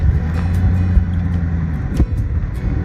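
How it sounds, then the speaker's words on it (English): A vehicle bouncing along a washboard dirt road in the New Mexico backcountry: a steady low engine and road rumble with intermittent knocks and rattles, loud and close, no talking. "The road in was bone-jarring washboard. We bounced and creaked and clattered along."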